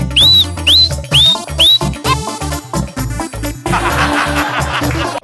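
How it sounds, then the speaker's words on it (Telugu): A group whistles together on a Telugu comedy stage show: four sharp rising whistles in quick succession, then looser overlapping whistling over a backing beat and a loud burst of crowd noise at the end. "ఒకసారి అందరు విజిల్"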